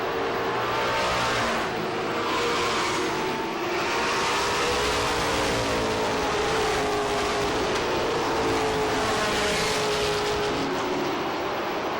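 Pro stock race cars in a 100-lap feature at Lee USA Speedway, engines roaring continuously and loudly as the pack races past, with rising and falling waves of engine noise.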